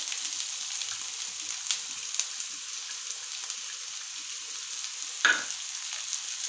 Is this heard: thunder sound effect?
no